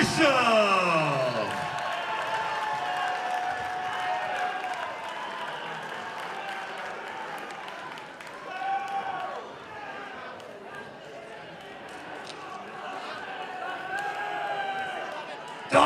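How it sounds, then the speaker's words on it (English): After a unanimous-decision win at an Island Fights MMA event, the crowd roars with sustained cheering, whoops and clapping, while an announcer's amplified voice carries over the noise. "Dawson, the crowd's loud for you, my man."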